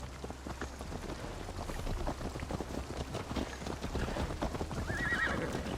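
Horse hooves clip-clopping steadily at a gallop in Assassin's Creed Valhalla, rhythmic close hoofbeats with a brief neigh near the end, over soft rain-like ambience.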